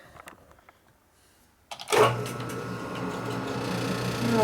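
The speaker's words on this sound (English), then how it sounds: "We'll put this in the lathe and spin it." After a short quiet stretch, a lathe starts up with a whirring motor and steady spinning hum that holds on, turning a Harley-Davidson Sportster 1200 cylinder head part.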